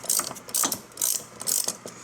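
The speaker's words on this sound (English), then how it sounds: "taking our ratchet wrench with our 24mm socket, placing it on the oil filter housing, cracking that loose" A ratchet wrench fitted with a 24mm socket cracks loose the oil filter housing on a 2011 Chevrolet Camaro V6, giving several close, crisp bursts of rapid pawl clicking in an even back-and-forth rhythm.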